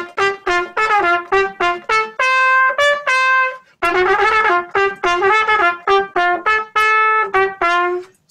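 A New Orleans jazz melody is played straight with even, evenly spaced notes, a steady run of bright clear tones in short phrases with a brief pause midway, close and unaccompanied by talk.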